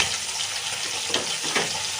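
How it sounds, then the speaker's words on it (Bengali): Pieces of chital fish hiss and crackle as they fry in hot, smoking mustard oil, a steady broadband sizzle with a few louder spits, close and alone without speech. "এই মাছগুলো দিয়ে দিলাম তেলের মধ্যে ভাজার জন্য"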